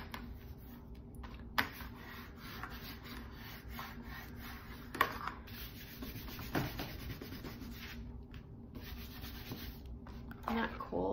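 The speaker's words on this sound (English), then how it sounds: "So I am going to burnish that down," Paper is burnished down by hand on an accordion album project, producing faint, close rubbing strokes that scrape steadily with a few small taps and knocks in a quiet room.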